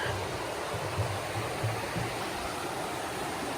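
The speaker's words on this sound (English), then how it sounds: "It's the widest river I've seen so far." Wide river flowing under a bridge on the Foothills Trail in South Carolina: a steady, broad hiss of moving water, constant and moderately loud, with a faint low rumble beneath and no voices.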